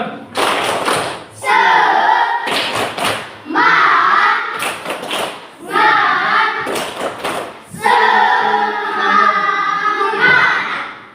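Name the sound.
children doing a rhythmic spirit clap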